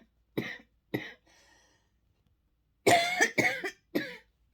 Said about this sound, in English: You're probably going to hear me coughing because I just took the cough medicine